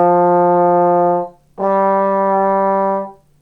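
A trombone sounds long, steady brass tones up close, two sustained notes separated by a brief break, played alone with no voices.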